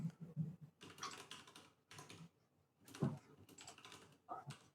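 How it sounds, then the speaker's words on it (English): Bursts of quiet clicking keystrokes on a computer keyboard come in irregular clusters separated by short pauses, with some faint background murmur. "we'll also learn how horrible I am at typing"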